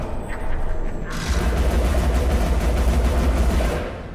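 Rapid, continuous gunfire aimed at a bomb in the PC video game Alice: Madness Returns: a dense, loud barrage of shots that thickens after the first second and holds steady before easing off at the end.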